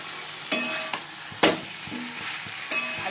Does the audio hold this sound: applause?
no